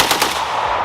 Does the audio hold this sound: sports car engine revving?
no